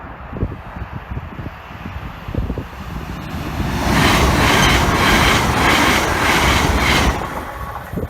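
An IEP (Intercity Express Train) passes a level crossing on Church Lane, Nottinghamshire, starting as a quieter rumble and building into a loud, close roar with rhythmic wheel beats that stays steady before easing slightly.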